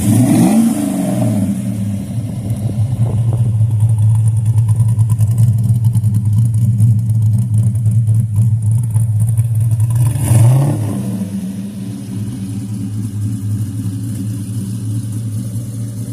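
A 1969 Chevelle engine runs loud and close, revving up in a sustained roar for several seconds before dropping back to a steady, rumbling idle.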